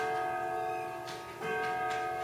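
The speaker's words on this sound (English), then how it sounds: "You guys are hearing the grandfather clock, and of course it's 11 o'clock, so it's going to chime at 11 times." A grandfather clock chimes eleven o'clock, sustained bell-like ringing tones with a few fresh strikes layered over the lingering hum, close by and steady.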